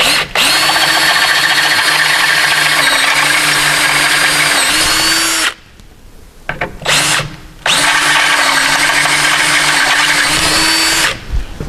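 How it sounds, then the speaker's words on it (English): Power drill boring out holes in a car cross member to M8 while fitting a rally sump and steering guard, two loud sustained whining runs with a brief low rattle between them. "we just drill out the cross member to the M8"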